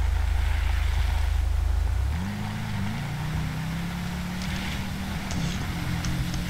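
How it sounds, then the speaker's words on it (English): A vehicle in GTA 5 rolls downhill on engine braking, a deep low engine drone that shifts to a rising, steady whine after about two seconds, alone without talk. "Let's test the engine braking."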